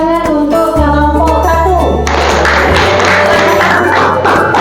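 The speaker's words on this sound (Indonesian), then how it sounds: "Beri tepuk tangan untuk kelompok" Applause and cheering from a classroom crowd for a group of students after their presentation, loud and sustained after opening bright jingling chimes, with a steady hum running underneath.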